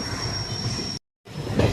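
The Tiruvannamalai–Tambaram express train rolls along with a steady, close rumble and a thin, high wheel squeal. The sound cuts out briefly, then resumes with the same running noise.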